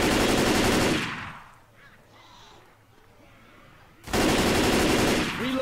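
Loud rapid rifle fire in Left 4 Dead 2, a dense burst of shots at the start, a quieter gap with faint game sounds, then another sustained burst that runs to the end.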